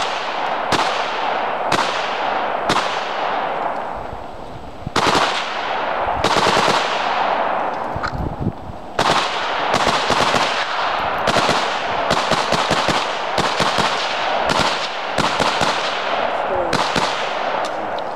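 Loud outdoor bursts of rapid fire from a bump-fired MAC-90 Norinco AK-47 with a 75-round drum, with repeated strings of shots with sharp reports and brief pauses between volleys, close to the microphone.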